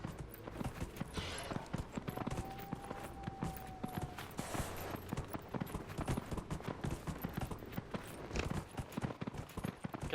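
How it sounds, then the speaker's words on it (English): Horse hooves clip-clop steadily in Dragon Age: Inquisition as a mounted character rides along, a continuous even rhythm of hoofbeats under faint game ambience. "Let's get my horse."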